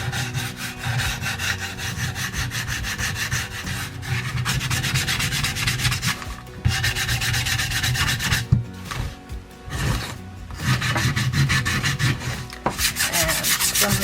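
Wood edges being roughed out by hand with sandpaper: steady, close rasping strokes in a continuous rhythm, broken by a few short pauses, with no voices.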